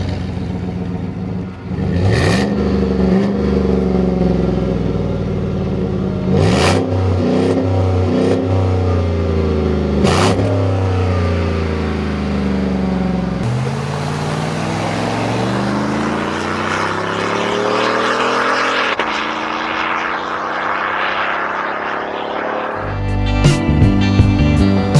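A 2014 GMC Sierra Custom pickup's engine revs repeatedly nearby, loud throttle blips rising and falling over a rumbling idle, with a final burst of clattering revs at the end.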